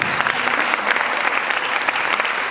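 A conference audience in Paris breaks into dense, sustained applause, many hands clapping at once and filling the room evenly throughout, with no voices standing out.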